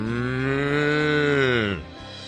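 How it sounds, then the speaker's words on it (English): A cow in a paddock gives one long, close, resonant moo that holds steady for under two seconds, then drops off sharply and fades into quiet. "They passed a cow in a paddock."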